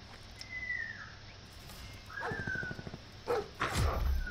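A dog in a video game barks and whimpers in a quick burst of yelps amid game noise, close and moderately loud, following a couple of rising whistle-like tones.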